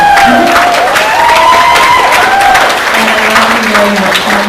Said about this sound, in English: So she deserves a very big round of applause for that.